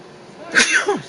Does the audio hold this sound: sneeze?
yes